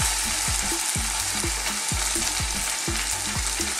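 A salmon fillet sizzles loudly in a hot frying pan, a dense steady hiss of frying fat with rhythmic low thumps repeating about twice a second beneath it, no talking.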